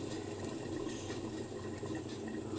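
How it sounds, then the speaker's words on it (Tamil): A pot of rasam quietly bubbles as it starts to boil close by, a soft, continuous seething with faint popping. "லைட்டாக கொதிக்க ஆரம்பிக்கிறாங்க."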